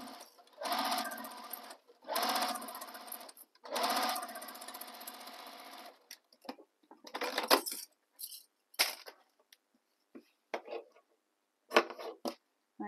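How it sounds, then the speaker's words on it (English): A sewing machine stitching the second side of a tote bag runs in three short close bursts, followed by scattered clicks and small handling noises at lower volume. "And sew the second side."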